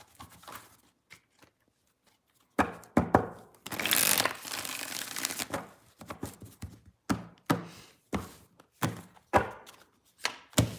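Quick riffling and snapping bursts of tarot cards being shuffled up close, with a longer fluttering run followed by a series of sharp taps.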